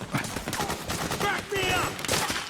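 Rapid gunfire rattles in Metal Gear Solid 4 gameplay, a dense burst of shots and combat noise with shouted voices mixed in.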